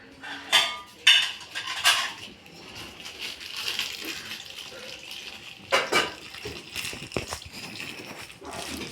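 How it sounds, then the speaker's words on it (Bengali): An item is washed under running water at a sink: water flows steadily while objects clatter and knock in several sharp bursts, close and moderately loud, with no talking. "তো এটাকে আমরা এখন ধুতে যাচ্ছি"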